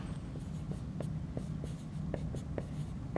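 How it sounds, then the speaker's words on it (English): Pen or pencil writing by hand on paper, a run of short scratchy strokes and taps at close range, steady and fairly quiet with no talking. "I'm going to have to write it by hand."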